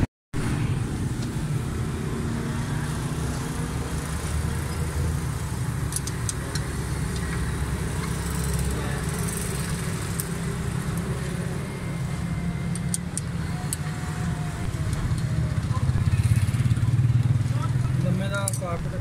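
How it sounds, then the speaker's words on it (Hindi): A Suzuki Alto car with a faulty black-sooting silencer, missing plug and fuel fault, its engine running with a steady low rumble, nearby and continuous, swelling slightly toward the end. "गाड़ी स्टार्ट करते हैं"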